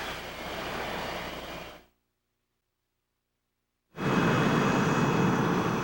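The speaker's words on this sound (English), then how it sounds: "The F-22 will be the U.S. Air Force's frontline fighter for many years to come." An F-22 fighter jet flies by with a broad roar. The sound drops to total silence for about two seconds, then returns louder and fuller.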